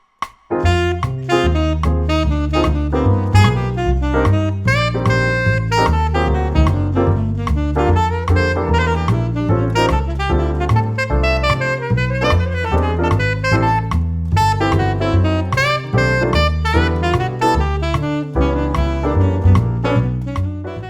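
Dense, fluid jazz improvisation moving through a minor ii–V chord progression, with a steady walking bass line and busy melodic runs throughout.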